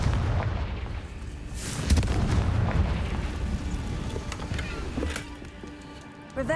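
A Confringo fire spell explosion in the Hogwarts Legacy video game, a heavy booming blast with a rumbling tail that fades, followed by softer game effects.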